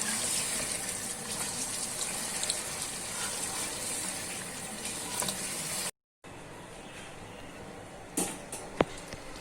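Boiled meat stock (yakhni) poured into fried nihari masala in a pot, a steady hissing, watery gush with sizzling that runs loud and continuous, breaks off briefly, then returns softer with a few sharp clinks.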